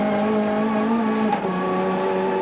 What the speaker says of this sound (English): You hear that turbo come on like a bomb. Heaps of wheel spin.